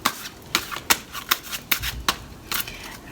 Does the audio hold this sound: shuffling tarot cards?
yes